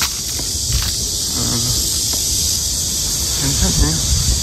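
Loud, constant shrill buzzing of cicadas nearby, with a person speaking softly beneath it and a few faint rustles.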